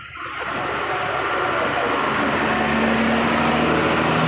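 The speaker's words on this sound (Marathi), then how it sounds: "हा रेल्वे पूल आपण पाहू शकता कशा पद्धतीनं रेल्वे पुलाखालून हे पाणी येते" Loud, continuous rush of flowing water, a broad steady roar that swells in after a brief quieter start and holds evenly throughout.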